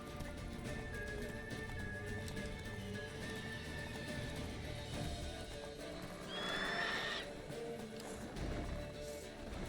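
Roach, a horse in The Witcher 3, gives a short whinny over a steady bed of in-game ambience and hoof movement, the neigh rising briefly midway and standing out faintly above the background.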